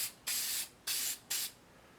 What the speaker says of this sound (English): Now I have this clear acrylic sealer, this Mod Podge one.